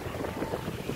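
Strong wind buffets the microphone at a low-tide beach in Nagbalayong, Morong, Bataan, a constant low roar with gusty swells and no voices.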